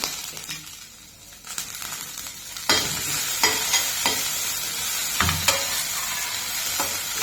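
Amla (nellikayi) chutney ingredients with urad dal, chana dal and coriander are stirred in a hot pan, giving a continuous sizzle broken by repeated scraping strokes and clatters of the spoon against the pan, close and fairly loud.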